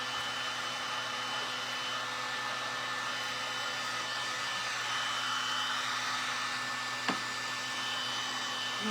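A hair dryer blows steadily to dry freshly painted surfaces on a recycled furniture piece, a continuous close airy whoosh with a faint tonal whine, nearly constant in level with one brief click partway through.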